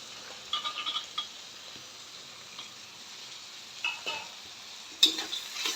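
Soft continuous sizzling of peanuts frying in hot oil for khichdi, with a few light scrapes and clinks of stirring scattered throughout, close and fairly quiet.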